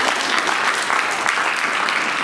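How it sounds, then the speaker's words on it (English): An audience claps for a speaker at a talk about how artists work, a dense, steady burst of applause for about two seconds. "You can clap for that."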